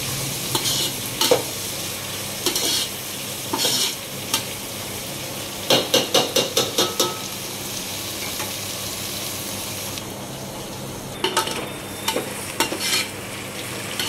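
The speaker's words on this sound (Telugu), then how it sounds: "ఆనియన్, పచ్చిమిర్చి వేసి కలుపుకోవాలి ఒకసారి." Onion and green chilies frying in a pan for vegetable biryani, with a steady sizzle under repeated clinking strokes of a spoon stirring against the metal, coming in short bursts.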